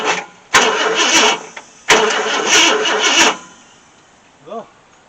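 A 1966 Ford Thunderbird with an FE V8, fuel line disconnected and ignition points not opening, cranks over in two bursts of about 1.5 seconds each without catching, close and loud, followed by a brief voice.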